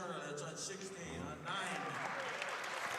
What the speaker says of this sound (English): They're clapping down there.